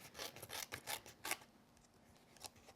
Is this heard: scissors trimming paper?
yes